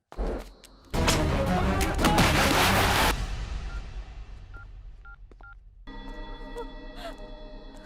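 A telephone is dialed in a Hindi-dubbed action film scene, with tones and beeps after a burst of loud crashing action noise, followed by a steady electronic tone pattern; moderately loud and close.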